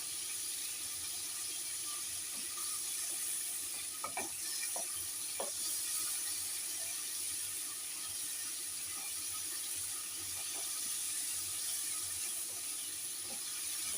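A hilsa fish head fries in hot oil, giving off a steady close sizzle and hiss, with a few brief clinks and scrapes of stirring around the middle.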